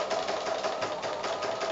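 A sewing machine runs a continuous fast stitching rhythm along a quarter-inch quilt seam, close and steady throughout with no voices.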